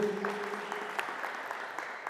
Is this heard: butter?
no